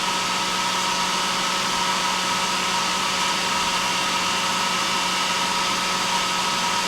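A birdseed cleaning machine runs and blows air, giving a loud, constant fan-like roar that holds steady and close with no pauses.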